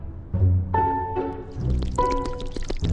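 Milk pours in a cartoonish video-game effect during a princess beauty routine, a short three-second burst of bright glugging, bubbly tones over a soft liquid wash.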